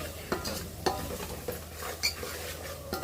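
Chicken curry bubbles and cooks in a pan with a low, ongoing sizzle. Sharp clinks from a spoon or ladle against the pan cut in every second or so.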